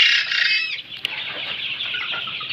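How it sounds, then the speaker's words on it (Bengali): Fayoumi chicks cheep and cluck in a shrill, busy chorus, loud at first, with a brief flap of wings. "আমার এই খামারের মধ্যে 850 পিস ফাউমি মুরগির বাচ্চা আনছি।"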